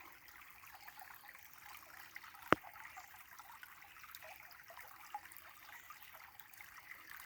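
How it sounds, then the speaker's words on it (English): Steady, soft flowing water from a creek runs throughout, with one sharp click partway through. "I love the sound of the creek."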